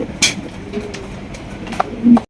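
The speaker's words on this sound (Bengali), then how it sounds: "পুরা তুফান চালাইতেছে ডাইকা ডাইকা দেখেন মাশাল্লাহ অনেকে ডাক পছন্দ করেন কি রকমের ডাকাটা ডাকতেছে" Pigeons in a cage at a bird sale, giving a few short coos and calls spaced across the moment, close by over a quiet background.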